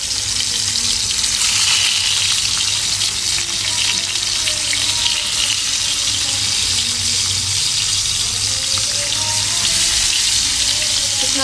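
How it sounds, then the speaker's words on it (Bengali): Hilsa fish fries in a pan, a loud, continuous crackling sizzle that stays even and close throughout, with no talking. "আমি হলো এখন মাছটা ফ্রাই করব, তো মাছ দিয়ে হলো ভাত খাবো আমরা, মাছ ভাজা দিয়ে ফ্রাই করবো।"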